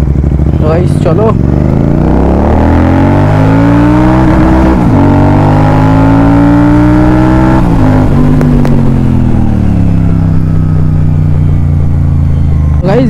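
A Royal Enfield Super Meteor 650 motorcycle being ridden, its engine note rising and falling through loud close revs and gear shifts, with heavy wind rush over the microphone throughout.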